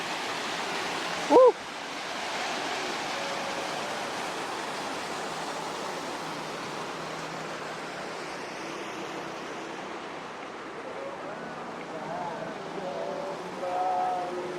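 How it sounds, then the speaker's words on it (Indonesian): A steady rushing roar of a waterfall on Mount Papandayan fills the scene, constant and broad, after a brief sharp click near the start. "Ini ada air terjun."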